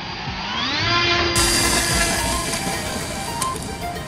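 Electric motor of a homemade radio-controlled F-4 Phantom model plane whines as it flies, a steady high-pitched drone rising in pitch early on and holding loud and close throughout.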